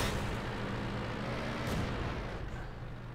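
Tank gun fire in World of Tanks during a clash between a Type 97 Chi-Ha and a BT, with a shot bouncing off armor: a steady, dense rumble of battle noise broken by one brief, sharp burst partway through.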